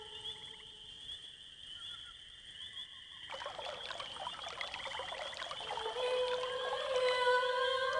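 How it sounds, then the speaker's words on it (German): Water from the Helikon is poured onto a dryad in the video game Quest for Glory 5, a soft sparkling trickle that swells midway over sustained tonal game music. "Durch das Gießen mit dem Wasser des Helikon beginnt die Dryade zu singen."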